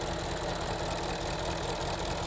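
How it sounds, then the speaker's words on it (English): A misfiring BMW V8 engine idles steadily and loudly up close, its rumble constant with an uneven, knocking undertone and no talking throughout. "So the engine is running for about 5 minutes."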